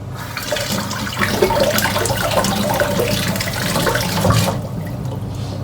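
Tap water running steadily from a kitchen faucet over mushroom stems being cleaned by hand, a continuous close splashing wash with no talk, stopping abruptly near the end.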